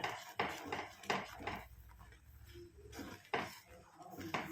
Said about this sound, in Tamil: நல்லா மிக்ஸ் பண்ணி விட்டுருங்க கையெடுக்காமல் மிக்ஸ் பண்ணிகிட்டே இருங்க